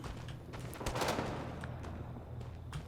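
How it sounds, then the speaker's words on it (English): Helicopter gunfire raining down on a hill in Rising Storm 2: Vietnam, a burst of rapid, fairly distant shots over a low battlefield rumble, fading into scattered faint pops. "helicopter fire rains down upon this hill"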